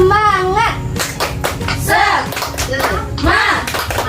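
Schoolchildren in a classroom performing the tepuk semangat clapping chant, rhythmic bursts of group claps mixed with a teacher's and children's chanting voices, loud and close.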